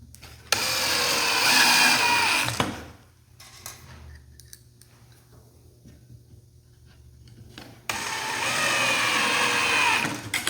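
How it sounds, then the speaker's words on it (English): A power drill drives screws into a wooden table saw taper jig: two loud, close bursts of whirring, several seconds each, separated by a quieter pause with small handling clicks. "We could probably stop at 2 screws, only put all 4 in though"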